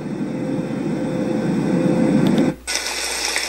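Sound machine playing an airplane cabin setting: a steady, loud broadband whoosh and hum like jet cabin noise, cutting off abruptly near the end as the setting changes.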